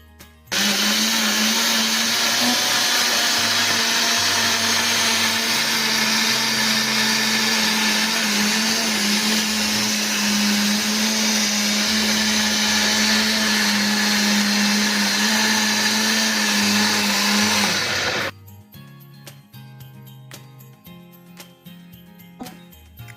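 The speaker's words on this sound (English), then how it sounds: "the yogurt, 1 spoon of peanut butter, then blend together." A blender whirs steadily and loudly for about eighteen seconds, blending milk, yogurt and a spoonful of peanut butter into a thick weight-gain smoothie, then cuts off abruptly, leaving quiet room tone.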